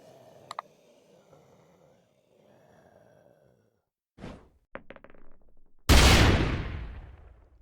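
A grenade dropped on a group of enemies in the Terminus Last Escape video game bursts with a sharp, loud blast that decays over a second or two, preceded by a few softer thuds and clicks.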